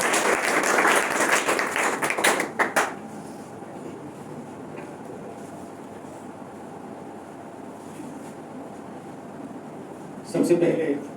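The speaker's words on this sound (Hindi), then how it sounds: "जोरदार ताली बजाएंगे" An audience at a youth organisation's speech event bursts into loud, close applause for under three seconds, which then drops to a quiet room hum before a short second flurry of clapping near the end.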